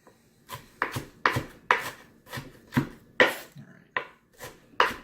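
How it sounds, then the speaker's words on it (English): Knife chopping folded fresh cilantro on a cutting board for pico de gallo, with about ten crisp, evenly spaced chops close up and no talking. "A nice trick to get it really like fine cut cilantro is to kind of fold it over on itself and then chop it like that"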